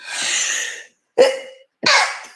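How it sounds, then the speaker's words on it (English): Three sharp bursts of breath close to the mic, a sneeze-like explosive exhale followed by two quick forceful expulsions, with brief silence between them. "I'm going to sneeze in a minute."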